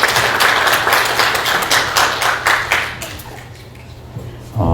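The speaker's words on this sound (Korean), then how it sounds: "환영합니다. 박수로." An audience claps together to welcome a professor to speak at a church gathering, a dense burst of applause that thins out and stops. A voice comes in at the end.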